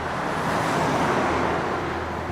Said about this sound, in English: being stranded next to fast-moving motorway traffic